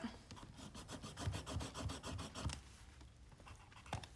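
A scoring tool scrapes a line into paper on a gift bag punchboard, giving a quick series of short, rhythmic rasping strokes close by, followed by a pause and a last faint scratch.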